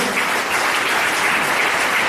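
A church congregation claps loudly and steadily at a French-language service, a dense, continuous wall of applause that fills the whole stretch without pause.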